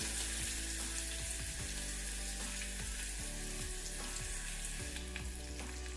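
Tempering for vamaku (ajwain leaf) rasam fries steadily in a pan, a dense, continuous sizzle with crackling bursts, with a faint low hum beneath and no voices.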